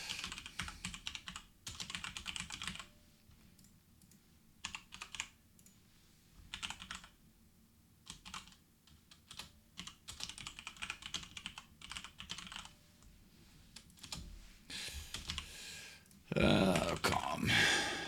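Fields are being filled in on a computer keyboard, with quiet, close keystrokes arriving in quick bursts and short pauses, ending in a louder flurry of typing.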